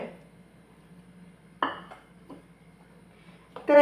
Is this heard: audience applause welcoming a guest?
no